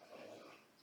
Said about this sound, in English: Huh, that was the dog.